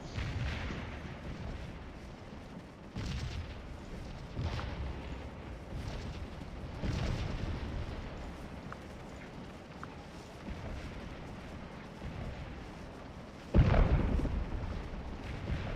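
Scattered gunfire and booming artillery from a Civil War infantry battle at Antietam in the Scourge of War video game, steady distant rumble with repeated thuds and one loud close blast near the end, no talking.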